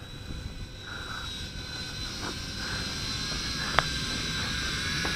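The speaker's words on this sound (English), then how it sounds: "A lot of flight time with this quadcopter." A WLToys V686G FPV quadcopter drone hovers outdoors in the wind, a thin, steady high-pitched motor whine with a faint breezy rumble beneath and one sharp click near the end.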